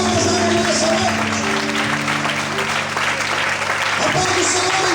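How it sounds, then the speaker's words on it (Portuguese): A church congregation claps steadily and loudly for the whole stretch, with a sustained musical tone and voices mixed underneath. "glorifica bem forte com as palmas da mão nessa noite"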